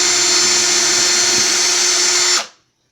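A power drill boring a hole through a small charm whirs loudly and steadily at close range, then cuts off abruptly near the end, leaving silence.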